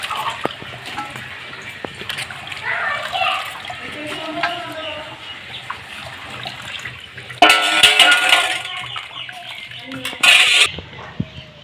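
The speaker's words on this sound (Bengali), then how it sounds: "বন্ধুরা আমি আবারও জল দিয়ে ধুয়ে নেব।" Potatoes washed in a basin of water, with clattering against the container and two loud bursts of sloshing and splashing close by.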